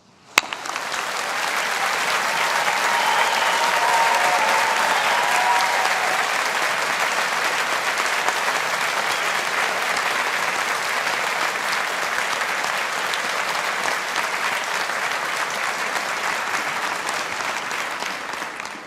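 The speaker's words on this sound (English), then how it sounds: "with a round of applause from all of us here" A large graduation ceremony audience of engineering and humanities graduates and guests applauds in one continuous, loud, dense wave of clapping that holds steady for nearly twenty seconds.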